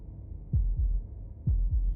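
A slow, deep heartbeat from the video game Slay the Princess, two double thumps, each a soft lub followed by a heavier dub, thudding close and low over a quiet ambient hum.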